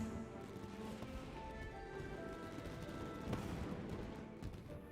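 Fireworks in the video game Genshin Impact, seen from a boat on the water, make a steady wash of faint, distant crackling bursts with no talk over them.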